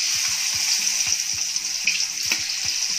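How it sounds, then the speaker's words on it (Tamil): Crushed garlic frying in a pan for a Tamil crab roast, a steady close sizzle throughout with repeated light clicks and scrapes of stirring. "கொஞ்சமாக இந்த பச்சை வாடை போகிற வரைக்கும் தான் நம்ம வறுக்க போகிறோம்"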